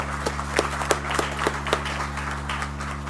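An audience at a provincial government media day claps for the Premier and MECs, scattered individual claps ringing out over a steady room hum, moderately loud.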